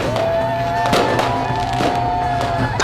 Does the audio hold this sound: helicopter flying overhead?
no